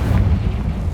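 A Confringo spell explosion in the game Hogwarts Legacy lands as one loud, deep, rumbling boom that fills the whole brief moment and then starts to fade.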